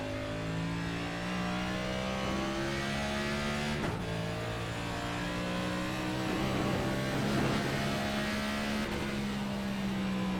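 Next Gen race car at Indianapolis in iRacing, its engine droning loud and steady throughout with rising and falling pitch through shifts, no talk over it.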